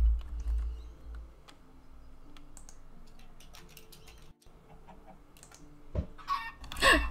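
Baby chicken in a video game, suffocating, giving short clucks and peeps near the end over quiet clicky game background, with no talking.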